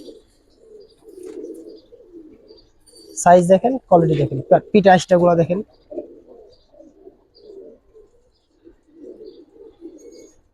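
Soft, low pigeon cooing murmurs on and off near at hand, with someone talking loudly over it for a couple of seconds in the middle.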